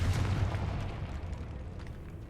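A Confringo blasting spell explodes in the Hogwarts Legacy video game, a loud booming burst at the start that rumbles and fades away over about two seconds.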